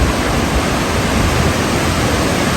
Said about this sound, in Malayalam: ആ സൗണ്ടും ആ ഒരു പതവത പോലെ വെള്ളം വരുന്നത് കാണുമ്പോൾ തന്നെ മനസ്സിനൊരു സന്തോഷമുണ്ട്